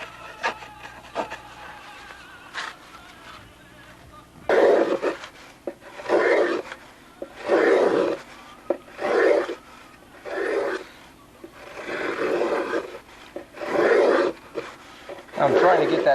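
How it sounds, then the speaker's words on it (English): A hand plane makes final cuts shaping the wooden spinner of a model Spitfire, with repeated rhythmic rasping strokes about a second apart, close and fairly loud after a quiet start. "I'll just do the final cuts with the plane."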